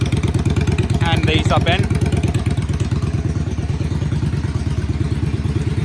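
A 2017 Yamaha XVS650 motorcycle with a dented tank and rear fender damage idling, a loud rhythmic low thumping engine pulse held steady throughout, with someone briefly speaking over it.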